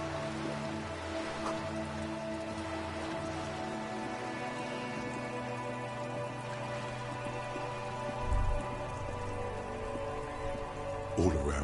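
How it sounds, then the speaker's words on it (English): Steady video game rain patters on surfaces in a continuous wash, with low sustained music tones beneath and a couple of soft thuds near the end. "All around you, rain falls on the spring thaw, looking up at the sky."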